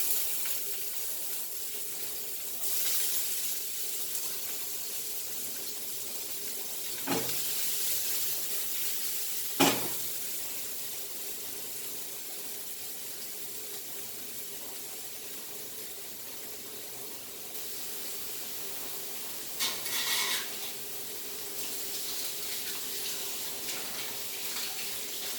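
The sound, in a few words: masala egg bhurji frying in a pan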